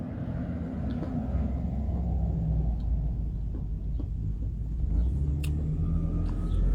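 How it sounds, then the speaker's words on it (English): A truck drives past on the road, its deep engine rumble loud and close, holding steady throughout with no voices. "Damn, that truck is alive."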